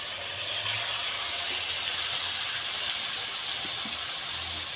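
Boal fish frying in hot oil with turmeric and salt in a pan, giving a steady close sizzle and hiss that carries evenly from start to finish with no voices.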